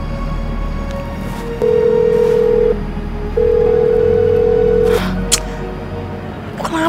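A telephone rings indoors in two loud, steady electronic tones separated by a short pause, over a low background hum, followed by a few faint clicks and rustles.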